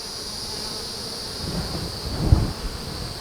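Honeybees buzz around a hive frame holding brood, nectar and honey while a forager brings in pollen, a steady high insect drone close by with a few soft low bumps and thuds.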